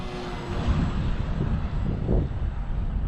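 An Apprentice RC model airplane buzzes through the air in strong wind, its engine drone rising and falling under heavy gusty wind rumble on the microphone.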